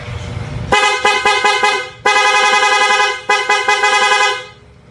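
A motorcycle's stock horn honks in close, loud bursts: a quick rapid series of short beeps, then a longer blast, then another cluster of short toots.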